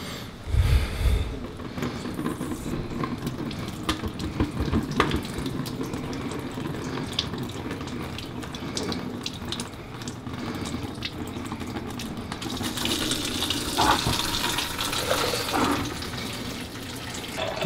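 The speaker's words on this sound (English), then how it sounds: "We're just going to run that loose and it's going to start pouring out." Coolant pours in a steady liquid stream from the loosened drain bolt of a Yamaha FJR1300 motorcycle, running continuously close by, splashing harder and brighter near the end.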